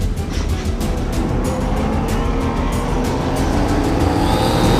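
An Aston Martin with a twin-turbo V12 climbs a hill at speed, its engine revving hard in a loud, steady roar that carries through the whole stretch, with no talk over it.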